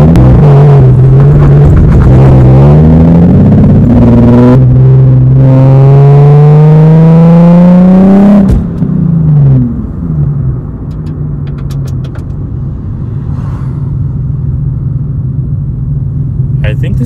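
A Nissan 370Z drift project car's engine revs loud and close while driving, climbing through several rising pulls before easing off into a lower, steady rumble.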